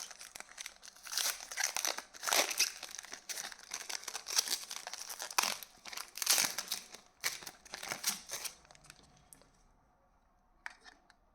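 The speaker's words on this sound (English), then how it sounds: "So let us unwrap this first." Packaging of a Honeywell USB 3.2 hub is torn and unwrapped up close, giving bursts of crinkling plastic and rustling that start and stop irregularly, then fade to near silence with a final small crackle.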